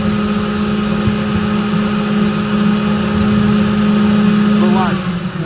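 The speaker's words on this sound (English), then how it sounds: "Let's turn the vac back on." A vacuum runs on a FLEX bowling lane machine that has saturated buffer brush drip pads and fluid flowing back. It gives off a constant, fairly loud mechanical hum that stays even throughout.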